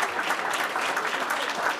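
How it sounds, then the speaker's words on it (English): A convention crowd in a large hall applauds steadily and loudly throughout, a dense wash of many hands clapping at once with no break. "Let's give them a round of applause."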